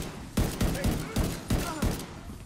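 Repeated gunfire from a non-player character in a video game, a series of sharp loud bursts at a steady rhythm, roughly every quarter to half second, with faint voices underneath.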